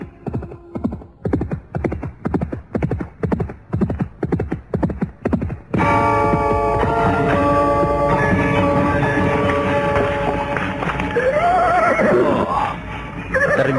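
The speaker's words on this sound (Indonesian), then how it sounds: "tiba-tiba mereka dikejutkan oleh suara derap seekor kuda yang datang dengan cepatnya" A horse gallops in fast toward the listener, its hoofbeats pounding in a rapid, steady rhythm. The galloping then gives way to a loud, dense swell of sound with a horse whinnying.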